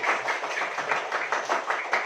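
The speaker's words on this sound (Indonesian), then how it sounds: "Beri tepuk tangan untuk kita semuanya." A fifth-grade elementary school class claps together in the classroom, with quick rhythmic bursts of hands repeating in a steady pulse for about two seconds, fairly close and lively.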